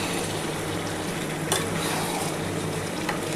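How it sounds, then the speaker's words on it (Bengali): Chicken with masala paste being stir-fried in a pan after water is added, a steady dense sizzle with occasional scrapes and clinks of a spatula, close and continuous with no talking. "বন্ধুরা দেখো, এবার খুব ভালো করে এটা কিন্তু কষাতে হবে।"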